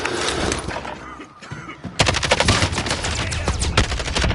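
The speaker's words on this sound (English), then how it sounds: "This dude shooting." Gunfire in Warzone: dense bursts of automatic shots, a short lull in the middle, then rapid, loud continuous firing with sharp cracks, with faint game voice lines in the mix.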